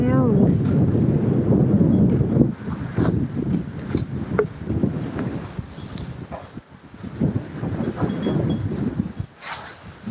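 Strong wind gusting with rain during a storm at an outdoor home site, buffeting the microphone in rough, uneven bursts, with a dog barking and whimpering and someone talking nearby.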